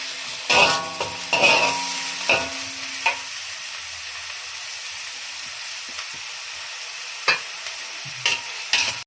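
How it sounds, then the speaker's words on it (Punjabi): Onion and cumin fry in hot oil for chilli paneer, with loud spatula stirs and scrapes at the start, then a steady low sizzle broken by a few sharp clinks of utensil on pan near the end. "ਤੇਲ ਦੇ ਵਿੱਚ ਥੋੜਾ ਜਿਹਾ ਜੀਰਾ ਪਿਆਜ਼ ਪਾਵਾਂਗੇ ਜੀ ਤੇ ਇਸ ਨੂੰ ਚੰਗੀ ਤਰ੍ਹਾਂ ਭੁੰਨ ਲਵਾਂਗੇ"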